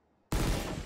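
A weapon in the Valorant video game fires a sudden loud burst of gunfire that starts after a short near-silent moment and keeps rattling steadily to the end, close and dense.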